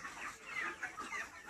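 Broiler chickens cluck on a farm as they are caught, a busy overlapping chorus of short, fairly close calls with no talk.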